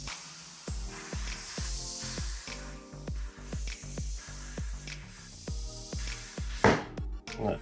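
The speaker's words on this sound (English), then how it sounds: "this park inflator struggles when it can't activate the pip on the valve" A Park tire inflator blasting air to seat the bead of a tubeless mountain bike tire fitted with CushCore, a continuous close rushing hiss under a rhythmic series of deep thumps, ending in a louder burst.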